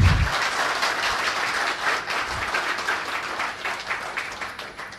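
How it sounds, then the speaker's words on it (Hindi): Steady applause from a crowd fills the whole stretch, dense clapping at an even level with no talking over it. "ये तालियां एक बार नेहा जी को अच्छी सुनाई दें।"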